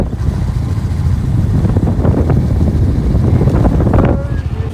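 Cold wind blows outdoors, buffeting the microphone with loud, rumbling low gusts that persist throughout, with faint background sounds beneath.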